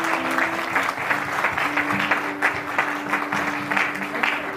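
Wedding guests at a Christian worship service break into sustained, lively clapping with a steady tone beneath it, the applause rolling on evenly throughout.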